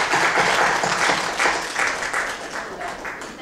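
Audience at a journalism prize ceremony applauds the winner, a moderately loud swell of many hands clapping that rises in waves and gradually tapers off.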